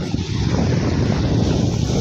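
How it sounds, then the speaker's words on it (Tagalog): Steady, loud wind buffets the microphone at a breezy seaside in the southwest monsoon, a continuous broadband rush that never lets up, with faint water and surf mixed beneath. "ang lamig ng simoy ng hangin"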